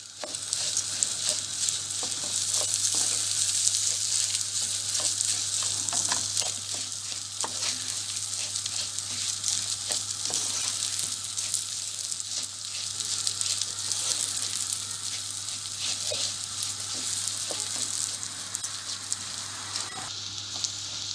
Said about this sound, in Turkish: Bunları güzelce kavuralım